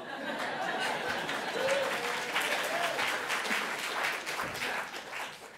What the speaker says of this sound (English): I'm not really sure why you're clapping